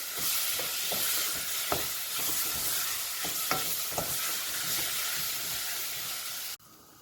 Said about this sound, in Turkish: Tereyağım ve un ile birlikte yine birkaç dakika mercimeğimi de kavurmaya devam ediyorum.